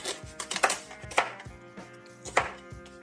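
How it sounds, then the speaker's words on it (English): A knife chops carrots on a cutting board in a home kitchen, sharp uneven taps repeating close and clear. "Chop that bit in half again, and then cut them in half again."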